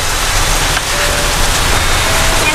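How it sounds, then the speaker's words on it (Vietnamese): Rain falls in a dense, steady wash of hissing patter, loud and close throughout, with no voices. "Thôi trời mưa luôn rồi."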